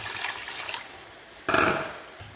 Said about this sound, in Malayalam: നമ്മളതിൽ ആവശ്യത്തിന് വെള്ളം ഒഴിച്ച് കൊടുക്കുക